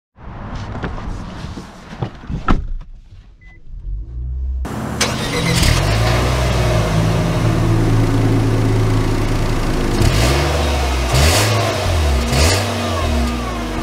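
A 2023 Nissan Versa SR pulls away, first with some quiet handling noise, then a loud, close engine note that climbs and falls as it accelerates through several shifts, with no talking.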